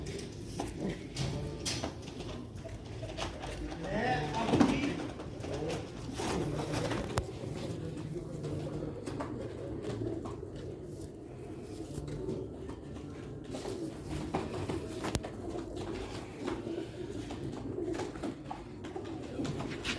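Pigeons coo in soft, repeated rolling calls at close range, mixed with faint rustling and shuffling in a rooftop loft, with no speech.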